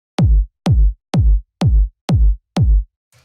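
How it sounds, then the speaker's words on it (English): Six punchy, deep layered kick drum hits of the kind used in minimal house thump at an even, steady tempo, each with a short, boomy decay, heard alone and close. "After that, we have the kick, which sounds like this."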